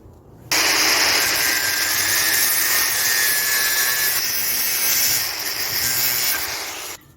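A power saw cuts through a steel profile rail for furniture, a loud harsh grinding whine that starts abruptly, holds steady for about six seconds with slight dips, then stops.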